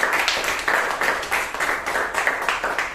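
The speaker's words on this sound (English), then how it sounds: "please give Puneeth a huge round of applause." Applause at a Toastmasters club meeting in Bangalore, moderate clapping from a small group with a rhythmic, uneven patter that continues throughout.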